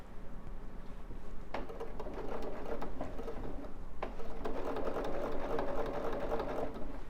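Sewing machine stitching binding onto a quilt, a fairly quiet steady mechanical whir running through the whole stretch, with a short pause and louder restart partway.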